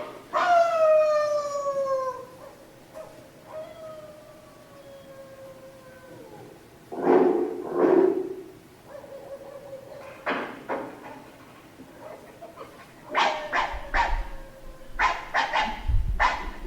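Several dogs howl and bark back and forth in a chain. Long wavering howls give way to short clusters of barks, some close and some farther off, at a moderate volume with quiet gaps between calls.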